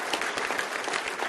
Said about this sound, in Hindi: इनके लिए स्वतः ताली बज गई।